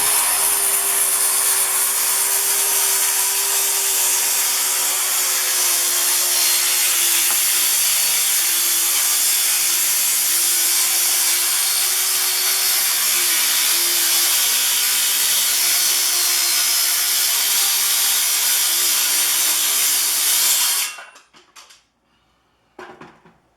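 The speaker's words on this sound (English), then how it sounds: "So I'm going to cut this off, cut the other side off, sand it," A wooden board is cut along its edge to straighten it, giving a steady, loud, continuous sawing or cutting noise with a constant tone that runs for about twenty seconds, then stops abruptly, followed by a few faint knocks.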